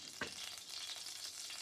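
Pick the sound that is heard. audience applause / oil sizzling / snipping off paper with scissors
oil sizzling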